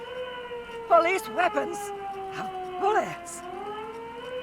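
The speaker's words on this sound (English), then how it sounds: "Sorry that siren went on for so long." A steady, drawn-out siren wails in the Disco Elysium video game, holding sustained tones throughout while someone speaks over it in short bursts.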